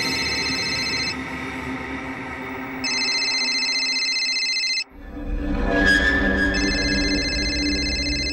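A telephone rings with repeated electronic trill bursts from an unknown caller in a crime drama scene, loud and clear, with the rings stopping briefly and resuming over a low background hum and some rustling.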